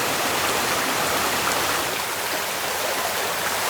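Clear, cold stream water rushes steadily past on New Zealand's West Coast, a close, even hiss of flowing water with no pauses and no voices.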